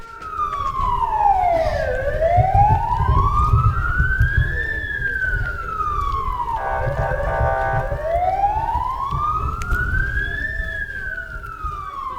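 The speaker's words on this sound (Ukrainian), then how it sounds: "Сергія та Владислава провели під звуки сирени" An air-raid siren wails, sweeping slowly up and down in long cycles, loud and steady, with a rumbling low background throughout, at a funeral for rescue workers in Khmelnytskyi, Ukraine.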